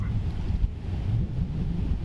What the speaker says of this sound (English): Quite a windy day, as you can hear